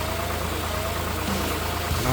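A 2011 Honda Pilot engine idles steadily up close, with a continuous rumbling hum and slight knocking texture throughout.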